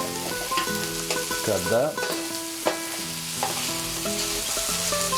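Onion and garlic sizzle with lamb in a paella pan, a loud steady fry broken by stirring scrapes, with a brief spoken remark and tonal sounds in the background.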